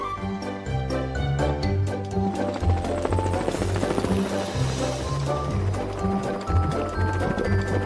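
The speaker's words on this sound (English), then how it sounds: "Morphle, morph into a helicopter." A cartoon helicopter gives a rhythmic, thumping rotor chop against an upbeat musical score, both busy and continuous throughout the short scene.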